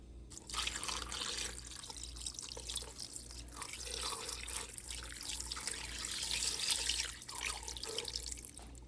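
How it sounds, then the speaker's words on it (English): A cup of water is poured into a cooking pot while seasoned chicken drumsticks are being prepared. The splashing trickle runs steadily for several seconds at a moderate, close level and swells slightly near the end. "We added the whole cup of water right there."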